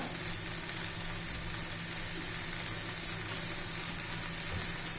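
Red chili sauce sizzles with pasta in a pan, a steady close crackling hiss that holds evenly throughout with no voices.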